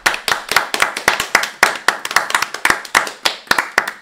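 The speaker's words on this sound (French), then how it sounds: "On peut l'applaudir, tout le monde peut l'applaudir." Loud rhythmic clapping during a livestream, close and sharp, a few hands beating an even, steady cadence of roughly four claps per second with no talk over it.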